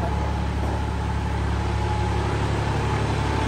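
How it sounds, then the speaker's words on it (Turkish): A farm tractor engine runs with a steady, even mechanical hum and low drone, close by and continuous, with no talk over it. "Traktör geliyor."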